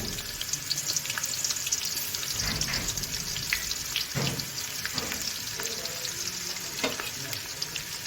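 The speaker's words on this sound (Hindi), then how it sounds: "अब इसमें मैं प्याज डाल दूँगी।" Onions frying in hot ghee for chicken pulao, a steady loud sizzle and hiss throughout, with a few brief bursts and crackles.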